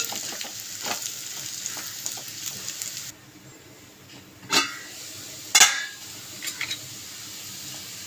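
Raw banana pieces fry in a hot pan with chili powder, a steady sizzle broken by a few sharp scraping stirs of the spoon, close and moderately loud with no talk.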